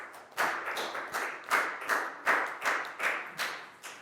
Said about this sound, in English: High five and a big round of applause for Down, please, guys.